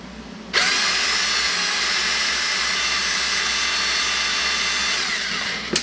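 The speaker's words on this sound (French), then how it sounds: "Je me suis branché des fils dans la perceuse" A Dakota cordless drill, powered through wires by five batteries linked in series, whirs up abruptly and runs steadily at high speed, loud and close, with a brief spike as it stops.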